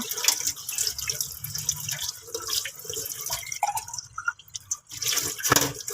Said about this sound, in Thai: ต่อไปก็จะเป็นการล้างเป็นล้างกระบอกไซรินนะคะ เราล้างแบบนี้เลยค่ะ